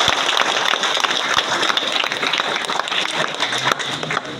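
An audience at a motivational program for school students claps in sustained, dense applause for Bhimodaya, filling the room at moderate loudness, with a few sharper claps close by.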